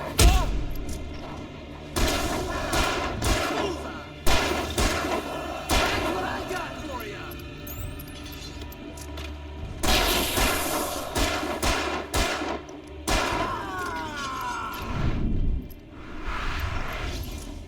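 Gunfire in Alan Wake Remastered comes in loud sharp bursts and single shots, with thuds and gaps between volleys, while voices talk over the action.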